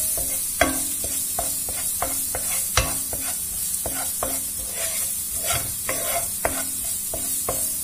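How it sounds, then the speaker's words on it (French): Soup ingredients browning in a pot for an Asian-inspired soup are stirred with a utensil, regular knocking scrapes against the pot over a steady close sizzle, no talking. "Et on va touiller tout ça. On va les laisser bien rissoler."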